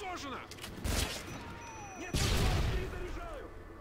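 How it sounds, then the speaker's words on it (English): Gunfire from a sentry gun in Call of Duty: Modern Warfare 3, with bursts of shots and heavy booms starting around one second and again near two seconds, loud against a busy battle background with game voices. "That sentry gun is gonna lock him down."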